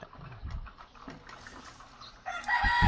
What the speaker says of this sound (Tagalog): Kelso na manok.